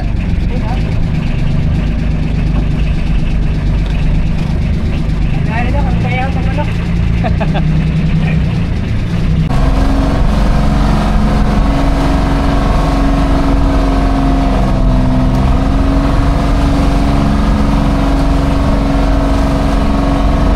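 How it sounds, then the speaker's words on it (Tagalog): A wooden motorboat's engine drones steadily while travelling on water, a loud continuous hum that shifts to a deeper, rougher tone partway through and keeps running to the end. "Gamit natin ay bangka pa rin ni Ariel."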